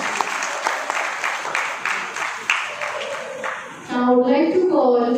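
School audience at an Independence Day celebration applauding the students, a fairly loud burst of clapping with a few sharper individual claps, fading out before a speaker's voice takes over at the end.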